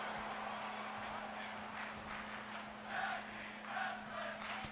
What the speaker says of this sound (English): Crowd beginning a tag team wrestling chant at this match.